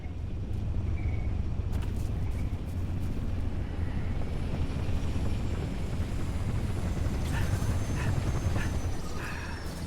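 Rotor drone of a Falcon aircraft in flight in Halo, a steady loud low thrum lasting throughout, with faint clicks and a brighter whine rising near the end.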